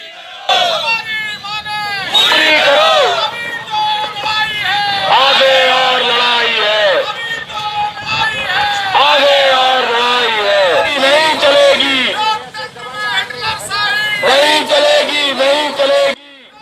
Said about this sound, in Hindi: कलेक्ट्रेट के सामने नारेबाजी कर रहे यह सभी पंचायत कर्मी हैं